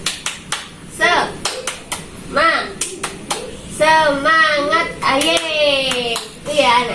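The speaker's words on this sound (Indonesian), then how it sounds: "Kita tepuk semangat dulu ya, anak-anak" Lower-grade elementary schoolchildren clap in a rhythmic chant pattern during a classroom literacy activity. Sharp, evenly spaced handclaps alternate with bursts of young voices calling out together, close and lively.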